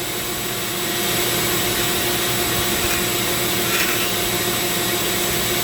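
A Dremel rotary tool carving a zebra wood ring: a continuous, close, high-pitched whine with a steady grinding hiss, alone and unbroken for the whole stretch.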